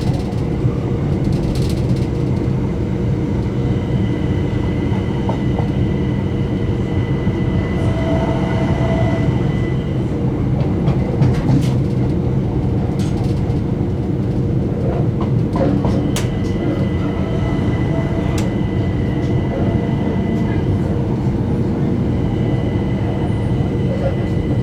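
A Southern passenger train runs on toward East Grinstead, with a continuous loud interior rumble, rail clatter and faint squeals, and an announcement voice heard over it.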